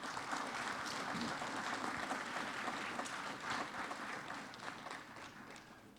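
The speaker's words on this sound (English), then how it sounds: "Give our children, a young resource person, a big round of applause." An audience at an evening parents' orientation applauds a young resource person, steady dense clapping from many hands throughout, fairly distant in the room and slowly tapering toward the end.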